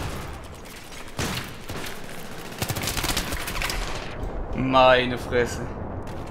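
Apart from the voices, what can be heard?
gunfire in the video game Battlefield 3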